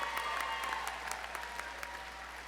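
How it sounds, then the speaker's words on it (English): Audience applause at a technical college commencement ceremony, a steady wash of many hands clapping at moderate distance, even and sustained throughout with no voices standing out. "Yes, we can clap for that."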